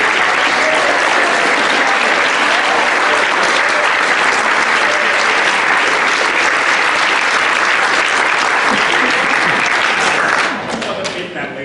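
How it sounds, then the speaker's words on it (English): Loud, dense applause from an audience after a school stage performance of Oedipus, sustained clapping from many hands that fades off at the very end. "round of applause for Mr. Kokari as well."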